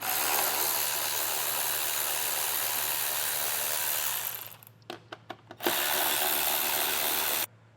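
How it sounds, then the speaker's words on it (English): A power tool, likely an impact driver or drill, removes T40 Torx bolts from a 2024 Jeep grille. It runs with a steady loud whir for several seconds, then gives a few short bursts and a final sustained run nearby. "There's also going to be 6 T40 Torx bit headed bolts that we're going to want to remove."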